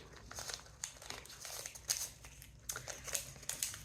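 Plastic-lined tea bag wrapper being opened, giving a run of close, crisp crinkling and tearing bursts that continue unevenly throughout, with no talking.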